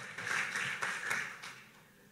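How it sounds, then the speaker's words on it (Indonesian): A church congregation claps faintly during worship, a few scattered, soft claps in an uneven rhythm with little else audible. "Boleh sambil tepuk tangan"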